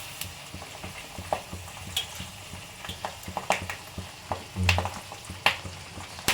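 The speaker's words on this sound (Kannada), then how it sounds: "ಈರುಳ್ಳಿ ಎಲ್ಲ ಚಟಪಟ ಅಂತ ಬೇಯುತ್ತೆ." Onions crackle while frying in coconut oil with hibiscus flowers, making a homemade hair oil. A soft bed of sizzle sits under scattered sharp pops and stirring clicks, moderately close and with no talk.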